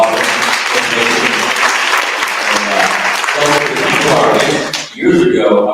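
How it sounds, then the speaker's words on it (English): An audience at a wealth and politics summit with a mayoral candidates forum claps in steady, dense applause for about five seconds before it fades, leaving a brief trailing sound. "Please do a round of applause."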